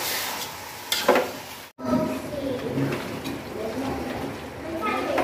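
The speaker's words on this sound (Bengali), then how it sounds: "এখন আমি ভালো করে কষায় নিব এগুলা" Meat being fried and stirred in a cooking pot, with a steady sizzle and scraping, clattering stirs heard up close, broken by a brief silent gap early on; a voice talks over parts of it.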